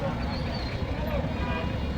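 Dense roadway congestion near a Mazar shrine, with a steady low rumble of idling cars, buses and auto-rickshaws and a murmur of distant crowd voices, continuous and moderately loud throughout.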